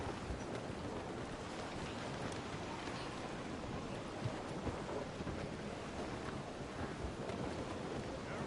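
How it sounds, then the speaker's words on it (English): A stormy squall at sea in the naval video game Assassin's Creed Rogue, with steady rain hiss and low rumbling thunder under the roar of wind and water, continuous and fairly distant throughout. "It's quite a rough squall, Captain."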